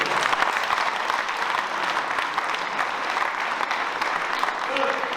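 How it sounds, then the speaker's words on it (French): Audience applause at a regional prize ceremony, a steady dense clapping from a large crowd filling the room for several seconds without a break. "Allez, quelques applaudissements, les saluts."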